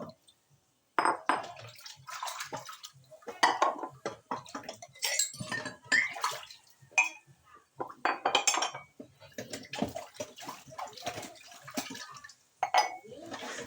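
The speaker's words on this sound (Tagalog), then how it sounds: "So panoorin nyo muna ako habang nagugas ako ng plato" Plates washed by hand at a sink, with irregular clinks and clatters of dishes and cutlery, splashes and drips of water, fairly close, no talking.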